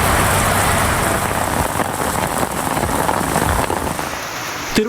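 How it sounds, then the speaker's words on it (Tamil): Moderate rain pours steadily across Tamil Nadu, a dense, loud hiss of drops hitting surfaces without letup. No voices are heard. "சுமார் 1 மணி நேரத்திற்கும் மேலாக மிதமான மழை பெய்தது."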